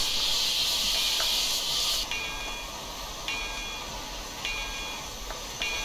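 Steam locomotive safety valves in Train Simulator Classic, on a Frisco T-54 4-8-2 Mountain: a strong, steady hiss fills the first two seconds, then cuts to a quieter hiss with faint repeated tones in the background.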